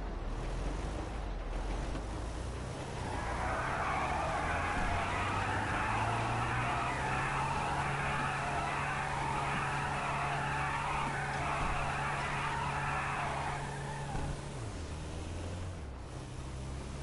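Car in the GTA V video game driving with engine drone, then a long tire screech of skidding that lasts about ten seconds before fading, loud and steady with no talk.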